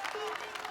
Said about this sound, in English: who's with a big group cheering him on.